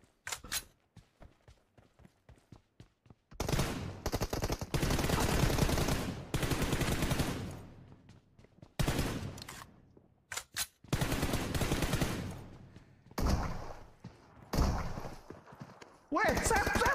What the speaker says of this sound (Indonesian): ngapain lu pakai shotgun, Sep? Pakai shotgun